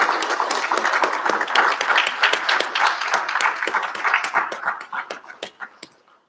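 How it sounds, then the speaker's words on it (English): Graduates at a recognition ceremony applaud, a dense burst of clapping that stays full for several seconds, then thins into scattered claps and fades out. "Give yourselves a big round of applause."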